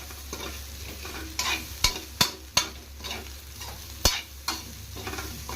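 Vegetables for veg fried rice stir-fry in a wide, thick-bottomed pan: a soft continuous sizzle broken by sharp scrapes and clanks of a spatula against the pan at irregular intervals, close up, with no voices.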